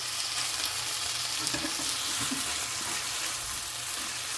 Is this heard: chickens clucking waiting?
no